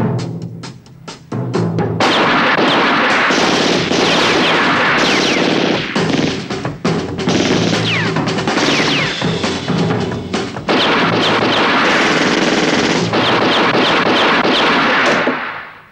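Gunfire breaks out on all sides during a jewelry store robbery in a 1972 Romanian detective film, with loud, dense bursts of shots and rapid volleys that continue with brief gaps, echoing sharply close by.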